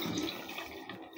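Water gushes from a turned tap in a short, soft, steady rush heard close by with no talking.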